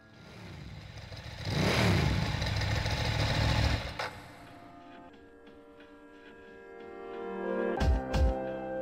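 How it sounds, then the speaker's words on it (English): A video game motorcycle engine, from Persona 3 Portable, revs loudly for a couple of seconds, then settles into a lower idle hum, with a couple of sharp bursts near the end. "A motorcycle?"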